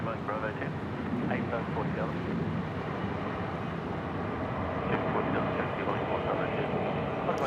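A Dash 8 turboprop at Sydney Airport gives off a continuous, moderately loud engine drone with some wind buffeting, while people talk over it.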